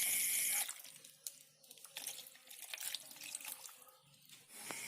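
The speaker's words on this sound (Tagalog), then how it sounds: "Maglagay rin po tayo ng 2 basong tubig." Two glasses of water poured into a cooking pot for a moringa pod and squash dish, a loud splashing gush that settles into a steady trickling flow, close and alone.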